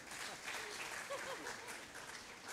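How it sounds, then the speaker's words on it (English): An audience applauds at a Hindu wedding celebration evening, a sustained, even patter of many hands clapping that holds steady throughout, with a faint voice briefly surfacing beneath it. "Jay Kotari, please give a big clap of your hand"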